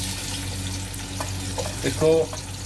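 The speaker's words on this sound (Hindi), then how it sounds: "और उसी घी में मैं ऑयल में प्याज डाल दूंगा।" A medium onion fries in ghee and oil inside a cooking pot for kofta chana pulao, a steady sizzle with a few stirring clinks and a brief louder burst near the end, close by.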